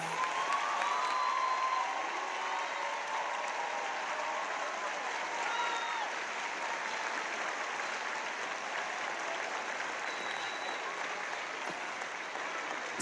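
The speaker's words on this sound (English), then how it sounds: "Let us recognize their service with a round of applause." A graduation ceremony audience gives sustained applause for standing military veterans among the Warren G. Harding Class of 2025 crowd. The clapping is even and continuous for over ten seconds, heard from a distance at a modest level.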